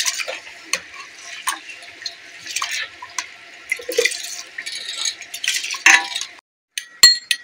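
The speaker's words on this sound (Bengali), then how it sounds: "বিরিয়ানির চালটা ভালো করে আমি ধুয়ে নেব একটু।" Biryani rice being washed by hand in water, with repeated splashing, swishing and light clinks of grains against a bowl in irregular bursts, close and moderately loud, no talking.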